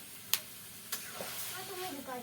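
Desi chicken curry, village style, is sautéed in a hot pan. Two sharp metallic clanks from a utensil come first, then a rising, steady sizzle and hiss of frying.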